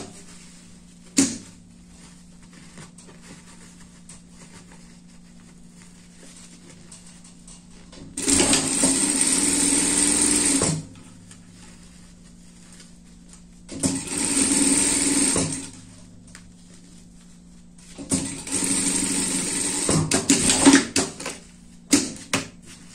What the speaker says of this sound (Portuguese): Essa é uma costura de segurança aqui.